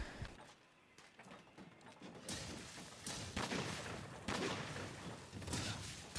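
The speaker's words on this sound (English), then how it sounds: "then the third one will be the worm stake cannon" A Gunlance fires its Wyvern Stake Cannon in Monster Hunter World, a heavy thud followed by a rapid series of blasts and impacts, dense and loud over the combat din.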